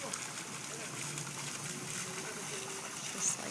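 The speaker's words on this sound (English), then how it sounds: "I just love the ripples and the sound of the water." Continuous soft rushing and rippling of fountain water at Vizcaya, steady and fairly close, with faint low background sounds underneath.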